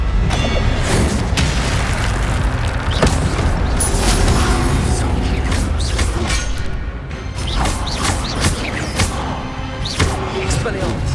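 Fire spell cast in the video game Hogwarts Legacy, heard as loud booming, crackling bursts amid dense game effects and music, repeating across the stretch with sharp transient hits.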